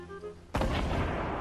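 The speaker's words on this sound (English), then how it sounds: "They shooting at someone." Gunfire in Fortnite arrives as a single sudden loud shot or burst that cuts in abruptly after a short quieter stretch with faint tonal game sound, then rings on at full loudness until the end.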